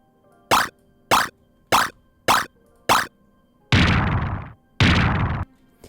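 Five short punchy hit sounds in an even rhythm, followed by two longer, heavier crunching impacts, like arcade-style damage effects played one after another.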